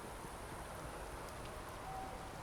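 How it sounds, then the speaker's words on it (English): Steady rain falls in the Starfield video game, a faint, even hiss of drops on surfaces with no voices over it. "I like rain."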